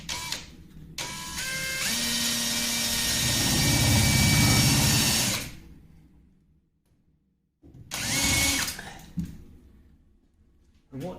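Power drill boring a round hole into a plaster ceiling at the end of a crack, a loud sustained whine that rises and fades, then a second shorter burst after a pause, close up.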